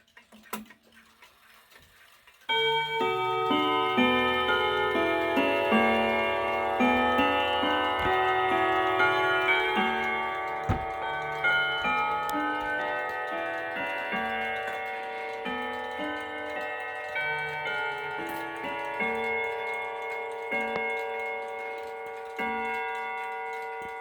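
A Sly clock driven by a Hermle movement plays the Whittington chime, a long run of bright bell tones ringing out loud and close after a brief quiet ticking start, each note lingering and overlapping the next.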